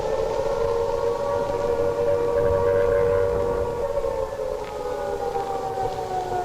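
A London air raid siren wails loudly during the Blitz, holding a long steady tone that slowly drifts in pitch before easing down near the end.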